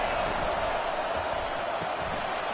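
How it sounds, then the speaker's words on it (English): Steady roar of a college football stadium crowd in a video game, LSU visiting Auburn, a dense continuous wash of cheering with no breaks, loud and close throughout. "Listen to the crowd energy here in the early going"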